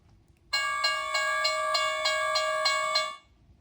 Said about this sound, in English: Two noisy trains are pulling into the